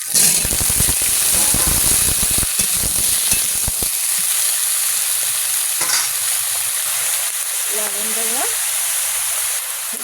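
Eggplant pieces dropped into hot oil for nim begun, a loud, dense, continuous sizzle and crackle close up, with spattering bursts early on that settle into a steady frying hiss.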